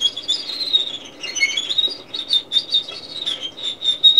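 A solo violin played high in its register imitates birdsong, with improvised chirps, trills and warbling phrases running continuously in the upper range, alone and close.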